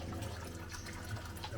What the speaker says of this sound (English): So that's the water going down the main drain